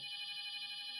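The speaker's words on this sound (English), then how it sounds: "The phone was ringing" A telephone rings steadily in a hotel room, a bright electronic tone sustained close and alone for the whole second.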